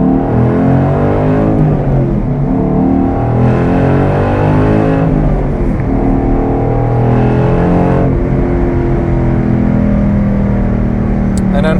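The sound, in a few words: 2012 Ford Boss 302 exhaust accelerating on test drive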